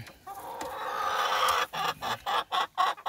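A bantam rooster in a coop clucks close by, a rising run of sound that breaks into a quick series of short, sharp clucks toward the end.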